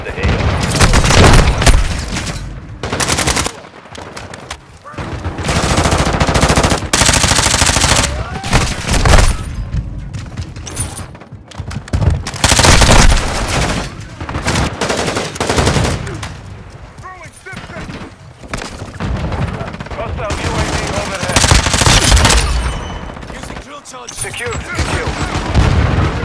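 Dense gunfire and booming explosions in a Call of Duty: Modern Warfare II match, loud continuous volleys and thumps with radio-style voice callouts mixed in.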